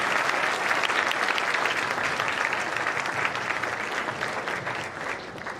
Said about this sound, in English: let us clap for all of us here and for the dignitaries